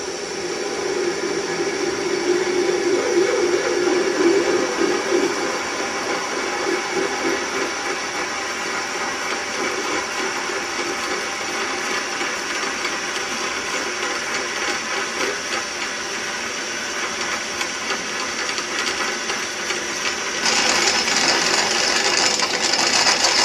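A metal lathe turns steadily at a slowed 200 rpm, giving a continuous mechanical whir and hum that holds at an even level throughout, with a brief rise in intensity near the end and no talking.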